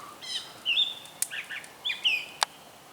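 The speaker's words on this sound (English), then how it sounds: "The birds are putting on a concert for us tonight." Birds singing at night around a tent campsite in Versailles State Park: clear, fairly close chirps and short whistled phrases repeating every half second or so over a quiet background, with no talking.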